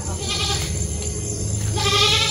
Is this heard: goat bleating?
yes